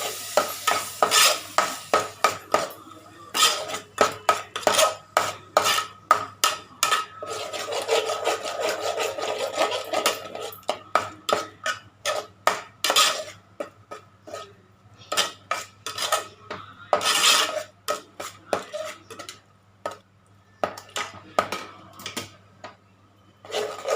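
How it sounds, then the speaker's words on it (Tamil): Tomato paste and ground masala being sautéed in a pan for a goat-head salna, mostly heard as repeated rhythmic scraping and clattering of a spoon against the pan with a faint sizzle underneath, close and without talk. "இந்த தக்காளி பேஸ்ட்டும் இதில் போட்டு இதை நல்லா வதக்கலாம்."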